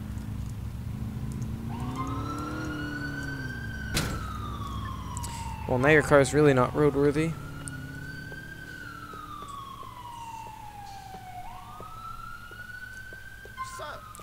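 A police car siren in the GTA IV video game wails in long rising and falling sweeps, broken by a short burst of rapid yelp tones, while someone talks over it.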